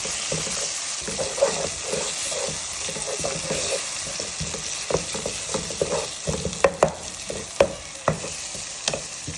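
Onions, green chilies and a tomato frying in a pan, a steady loud sizzle with stirring scrapes and clinks growing sharper toward the end, no voices.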